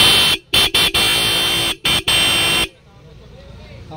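A Royal Enfield Bullet motorcycle horn blares loud and close in a run of short and longer honks with brief gaps, then cuts off to quiet street background.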